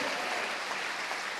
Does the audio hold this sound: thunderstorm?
no